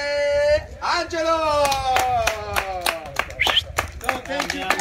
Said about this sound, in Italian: Un applauso, un grande applauso per Angelo!